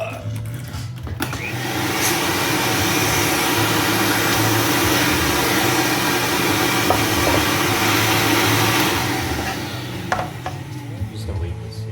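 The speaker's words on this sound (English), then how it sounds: "I want to vacuum that." A vacuum cleaner whines and roars steadily for around ten seconds after switching on, loud and close, then spins down near the end.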